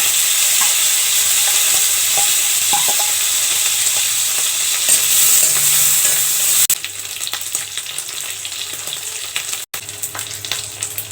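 Dried fish fries in hot oil with a steady, crackling sizzle, punctuated by occasional scrapes and taps of stirring in the pan.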